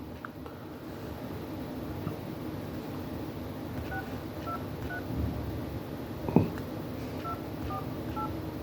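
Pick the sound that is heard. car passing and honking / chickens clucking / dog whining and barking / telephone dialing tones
telephone dialing tones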